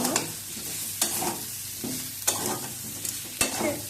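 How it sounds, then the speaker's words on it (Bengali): Potatoes stirred in a pan with red chili powder and turmeric while cooking dum aloo, a spoon scraping the pan in repeated strokes about once a second over a soft, steady sizzle. "আর একটু লাল লঙ্কার গুঁড়ো দিয়ে নেড়ে"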